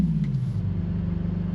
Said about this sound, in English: press a brake, and give the car some power.